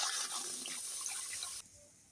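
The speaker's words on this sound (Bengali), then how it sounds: "এবার আমি পটলগুলো ভাপায় নেওয়ার জন্য কড়াইতে জল দিয়ে দেবো।" Water is poured into a wok for steaming pointed gourds: a steady, close rushing pour for about a second and a half, then it stops abruptly.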